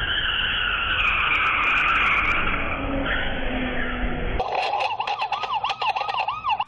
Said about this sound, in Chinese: 轿车又想钻岔路，但却撞上停等红灯机车，自己失控打滑撞到民宅前柱子停下